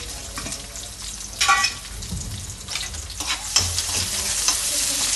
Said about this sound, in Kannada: ಎಣ್ಣೆ ಕಾದಿದೆ ಈಗ ಈರುಳ್ಳಿ ಹಾಕ್ಕೊಂತ ಇದ್ದೀನಿ